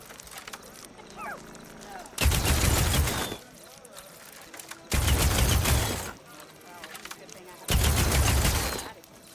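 A weapon in the video game Horizon Forbidden West fires six shots at a time, heard as three loud, roughly two-second bursts spaced apart with quieter game sounds between them.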